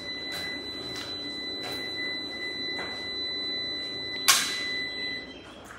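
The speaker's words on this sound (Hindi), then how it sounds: "ये UPS है और ये बीप की आवाज़ है, इसमें एरर आ चुका है" A UPS in an error state sounding a steady, shrill electronic error tone that persists throughout, broken by several sharp clicks, one louder snap near the end.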